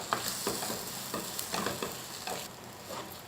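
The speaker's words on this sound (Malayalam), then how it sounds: "നമ്മുടെ ഉരുളക്കിഴങ്ങ് ചേർത്ത് കൊടുക്കുക. നല്ലപോലെ മിക്സ് ചെയ്ത് കൊടുക്കുക." Potatoes are stirred and mixed in a frying pan, with soft scraping strokes repeating every half second or so over a low sizzle. The sound is quiet and close, and no voices are heard.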